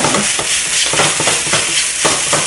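Pork fried rice stir-fried over high heat in a pan, with steady loud sizzling and repeated scraping strokes of a spatula roughly every half second, close up and with no talking.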